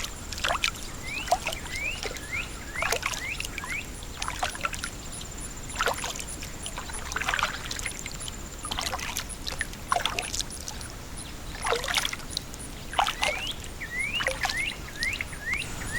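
Kayak paddling on water at Prime Hook National Wildlife Refuge in Delaware, soft rhythmic paddle strokes and splashes with many bird chirps and calls around, close and steady, no talking.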